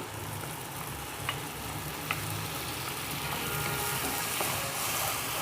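Ground tomatoes hitting frying onions in a karahi for chilli chicken masala, a steady, soft sizzle and crackle throughout with a few faint clinks, no talking.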